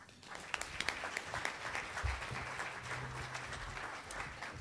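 Steady audience applause fills the room to welcome a speaker at a medical talk, dense even clapping from a crowd, with a brief low murmur or thump partway through.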